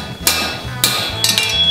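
A hammer strikes a steel horseshoe bar shoe being shaped for a hind lateral extension, three sharp ringing metallic blows spaced about half a second apart, close and loud.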